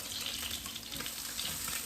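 Fish browning in a pan for Jamaican brown stew fish gives off a steady, dense sizzle with a faint watery hiss, continuous and close, with no talking.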